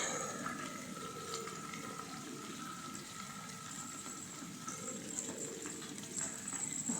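Cordia myxa (lasoda) fruit frying in hot oil in a pan, a steady soft sizzle and bubbling with occasional small pops, close and continuous, no voices.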